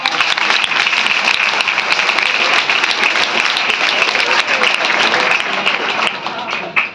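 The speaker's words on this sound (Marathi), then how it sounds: "या सर्वांसाठी एका जोरदार टाळ्या" Loud, sustained applause fills a hall at a Savitribai Phule birth anniversary event, with many hands clapping densely and evenly for several seconds before tapering off at the end.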